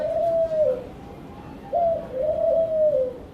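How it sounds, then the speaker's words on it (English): Magician's doves coo from a prop store aboard a cruise ship, several soft rounded coos in an uneven run, close and clear over a low steady hum, with a short pause before two more calls. "In the prop store, the magician's doves prepare themselves for their next disappearance."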